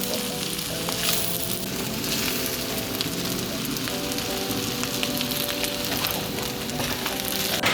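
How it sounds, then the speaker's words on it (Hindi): Rice frying on a high flame while being stirred and mixed, a loud dense sizzle that runs continuously from start to end, no speech. "मैंने तेज़ आंच कर ली इस चूल्हे की चावल मिक्स करते हुए"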